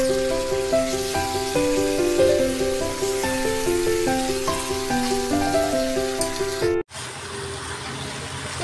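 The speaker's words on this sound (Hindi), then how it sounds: "अब इसमें डाल दूँगी आलू। और सबसे पहले मैं आलू को ही भूनूंगी" Potatoes frying in a pan of masala, a steady loud sizzle with crackling that cuts off abruptly near the end, leaving quieter background.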